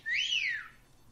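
A single short whistle from a person, rising then falling in pitch and lasting about half a second, clear and fairly close, with no talking around it.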